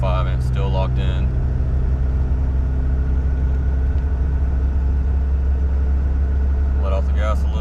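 Cummins diesel truck cruising locked in overdrive just over 45 mph, a steady loud low engine drone and road rumble throughout, with someone talking briefly at the start and end.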